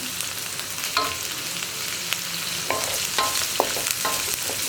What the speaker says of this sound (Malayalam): ഇതെല്ലാം കൂടി ചേർത്ത് 1 മിനിറ്റ് ഒന്ന് വഴറ്റിയെടുക്കാം.